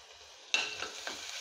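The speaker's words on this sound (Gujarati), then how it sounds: "લસણ તેલમાં સારી રીતે કકડાવી લેશું।" Crushed garlic cloves dropped into hot oil in a pan give a sudden close sizzle that settles into a steady crackling hiss, with faint stirring sounds.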